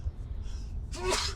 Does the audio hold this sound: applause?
no